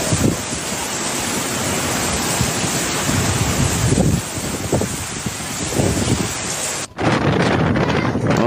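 Heavy rain and strong wind from a super typhoon in Batanes roar in a steady, loud broadband wash, with gusts swelling and a brief dip near the end; no voices.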